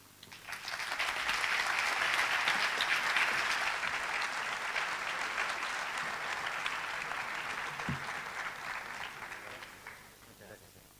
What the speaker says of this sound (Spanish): Bueno, otro aplauso.